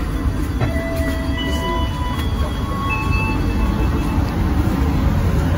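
Stainless steel new-generation passenger train carriage running between Tegal and Jakarta, heard from inside: a steady rumbling roar of wheels on track with faint thin squeals drifting above, continuous throughout without talk.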